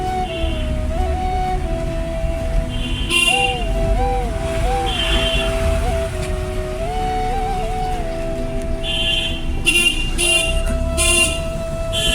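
A car horn sounds in several short honks during a driving lesson, over a steady hum of the running vehicle and nearby road traffic.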